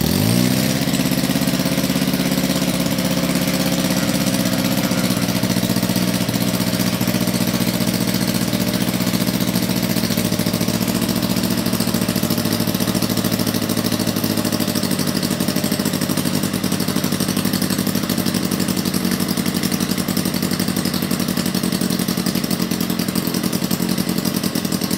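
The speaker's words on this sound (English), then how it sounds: "so it doesn't take much to start this engine" An OS FT-160 twin-cylinder model aircraft engine turning an 18x8 propeller starts up and runs continuously at a loud, steady buzzing drone close by, with no talk over it.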